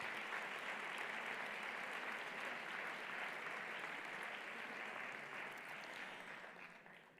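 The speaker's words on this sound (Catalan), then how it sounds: "demanaria un fort aplaudiment per ells" An awards gala audience breaks into loud, sustained applause, a dense wash of many hands clapping that stays steady and then slowly thins toward the end.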